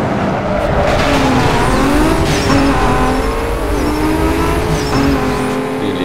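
A modded Volkswagen Beetle race car in Need for Speed Most Wanted, racing against Corvettes: its engine roars loudly and continuously, rising and falling through the gears, with tire squeal woven through the drone.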